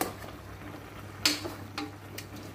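Chicken stir-frying in a pan for a Thai Isan chicken and gourd curry, with a low steady sizzle and a few scraping stirs and soft clatters.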